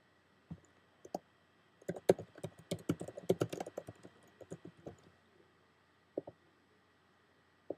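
Typing on a computer keyboard, close and fairly quiet, with irregular clusters of key clicks separated by short pauses and a few isolated taps toward the end.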